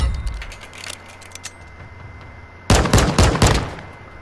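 Video game gunfire, a few scattered shots early on, then a loud burst of rapid shots in quick succession, with no talking.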